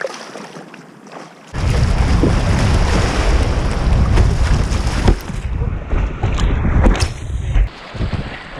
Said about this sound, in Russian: волны же такие здесь косые